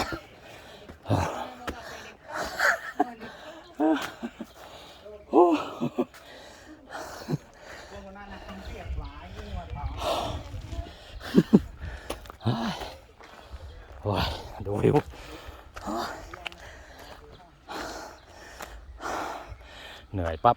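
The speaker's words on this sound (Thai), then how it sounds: "ฟังเสียงหอบกันไปก่อนครับ" Heavy, rapid panting from a hiker climbing a trail at a Thai mountain Dhamma park, close to the microphone and continuous over about twenty seconds, with footsteps and shuffling mixed in.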